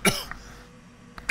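A single sharp cough bursts out at the start and trails off quickly, followed by a short faint follow-up and a brief noise near the end, close and fairly loud.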